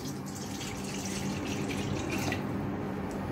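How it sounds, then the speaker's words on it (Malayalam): Water is poured into flour to make dough for egg puffs, a steady close trickle and splash running throughout without pause, with no speech. "അതിലേക്ക് ആദ്യം നമുക്ക് കുറച്ച് വെള്ളം ഒഴിച്ചു കൊടുക്കാം"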